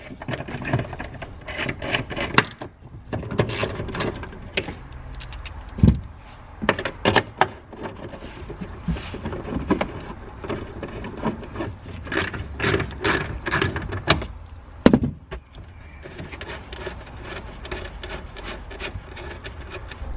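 Ratchet wrench clicking while undoing 8mm bolts on a BMW E92 tail light, bursts of rapid ratcheting with scraping and rubbing handling noises between them, close and steady across the span with no talk.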